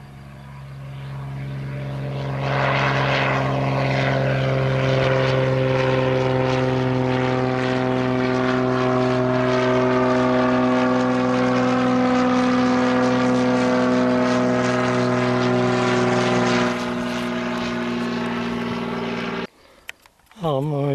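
Propeller aircraft engines drone loudly and steadily at an airfield, a deep multi-toned roar that swells and holds for nearly twenty seconds before cutting off abruptly.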